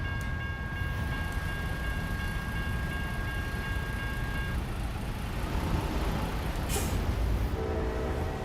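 Long freight train passing in American Truck Simulator, a dense continuous rumble of cars rolling by, steady and fairly loud, with a brief hiss near the end as it finishes.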